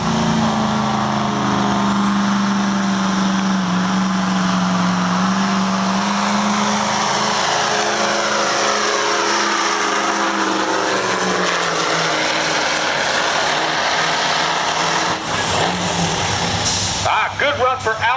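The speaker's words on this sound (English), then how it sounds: "Driving the big Mack Superliner that's called Back in Black, Mr. Albert Brown." The big Mack Superliner truck roars continuously and loudly as it pulls the sled at a tractor pull, its engine note rising steadily before cutting off near the end while an announcer talks over it.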